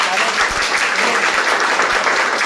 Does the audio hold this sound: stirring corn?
no